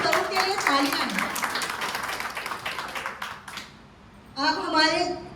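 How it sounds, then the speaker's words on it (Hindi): At an Independence Day celebration gathering, an audience claps steadily for a few seconds. A voice talks over the clapping, then there is a brief lull before someone speaks again. "सास बहू के लिए तालियां हैं।"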